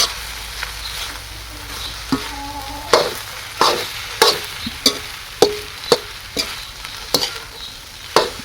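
Metal spatula scraping and clanking in a wok at a steady rhythm, with a sizzle of frying underneath, close and fairly loud.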